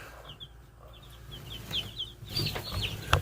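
High, thin Freedom Ranger chick peeps repeat in short bursts under a heat lamp, growing busier and louder toward the end over a low background hum.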